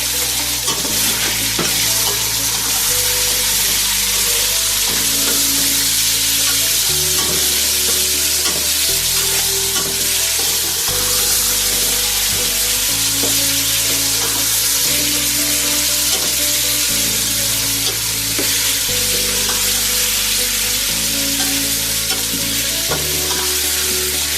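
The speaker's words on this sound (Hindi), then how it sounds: "मैंने अच्छे से भून लिया है इस तरह से" Tomatoes and green chillies fry in a pan with a loud, continuous sizzle, and a spoon periodically stirs and scrapes through the mixture.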